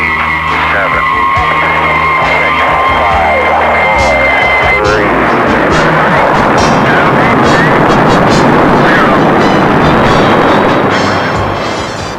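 Rocket engines ignite at a NASA launch, a dense broadband roar swelling after a few seconds of countdown chatter and tones, then rumbling loud and continuous until the end.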